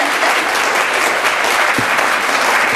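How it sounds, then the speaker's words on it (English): Audience applause fills a city council meeting chamber, a steady dense clapping that runs unbroken and loud throughout, with no talk over it. "How about a huge round of applause for Sharita?"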